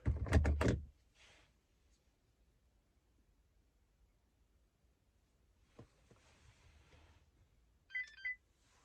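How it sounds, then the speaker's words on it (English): After a brief clatter up close, a short pair of electronic beeps from a 2015-2020 Chevy Tahoe during key fob programming sounds near the end, faint against a quiet background with light rustling. "you're going to listen for a beep"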